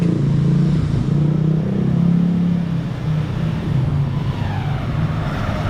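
Road traffic with cars and motorcycles passing, a steady loud roar of engines idling and moving nearby, heard without talk.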